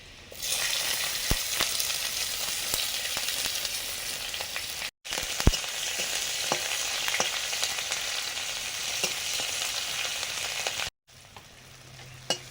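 Dried chili, black cumin, chopped garlic and onion fry in oil, giving a steady, close hiss of sizzling with small crackles and pops, broken by two short silent gaps, no voices.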